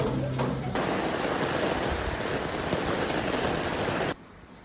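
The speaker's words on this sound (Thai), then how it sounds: "บรรยากาศฝนตกนะคะ ไปไหนไม่ได้" Steady, heavy rain pours down on Koh Phangan island during flooding, a dense hiss that continues for several seconds before cutting off abruptly.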